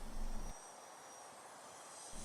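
A 3D-printed RC Vulcan bomber model on a 3-cell electric setup flies overhead in a headwind with a jet-like whine. It is louder at the start and end of the pass and steady between, with no talking.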